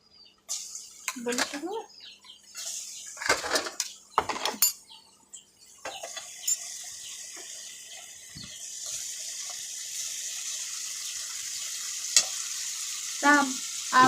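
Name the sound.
chopped raw mango added to a sizzling pan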